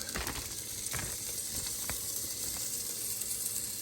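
Pork sizzles steadily in a hot pan, a continuous bright frying hiss with occasional sharper crackles and pops, close and loud with no talking.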